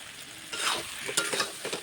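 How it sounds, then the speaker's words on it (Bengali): Pointed gourd, potato and fried prawns sautéing with spices in a pan, a steady close sizzle with a few scraping stirs in the second half. "দিয়ে ভালো করে এটাকে দশ মিনিট ধরে আমি কষিয়ে নেবো মশলার সঙ্গে"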